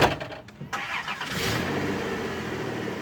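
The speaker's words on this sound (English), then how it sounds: "let me start up the car" Engine of a 2003 Dodge Grand Caravan starting nearby. A brief churning crank catches and the engine fires, then settles into a steady, even idle for the rest of the clip.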